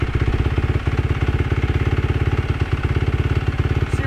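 A Kawasaki KX250 dirt bike engine runs steadily up close, a loud, rapid, even-pulsing two-wheeler drone with a clattery mechanical edge that holds without letup.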